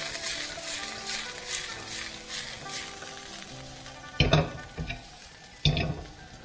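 Carrots, ginger and broccoli stir-fry in a pan with a soft steady sizzle, punctuated by a couple of louder scraping tosses near the end.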